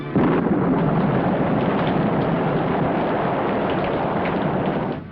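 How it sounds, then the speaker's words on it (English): A heavy, continuous roar of pouring rain, loud and steady throughout with a deep rumbling low end. "Down came a thundering torrent of rain."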